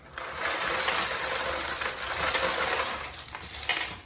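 Ice being poured and spread over cucumbers on a kitchen counter while making bread and butter pickles, a steady rattling, crunching clatter of ice that runs continuously for a few seconds at close range with no talking.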